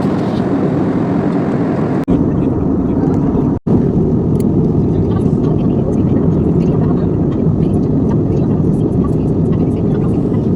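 Steady, loud droning engine noise of an airplane cabin in flight to Kochi, continuous broadband rumble with a couple of brief dropouts.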